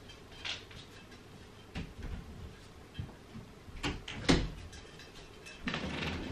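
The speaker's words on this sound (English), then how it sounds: "Let me just shut that door because it's really annoying." A door being shut in a hot room at home, heard as several soft, scattered knocks and clunks that build to a sharper thud partway through, fairly faint against a quiet background.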